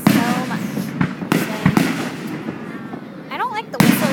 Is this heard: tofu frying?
no